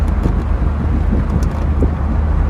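A 1966 Chevrolet Impala convertible cruising smoothly, its low engine hum blended with road rumble and strong wind buffeting across the open top, steady throughout.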